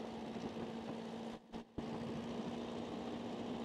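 A Mauboussin Corsaire light aircraft's propeller engine runs at fairly high revs on the ground while taxiing, a steady droning hum heard from inside with a brief dip midway.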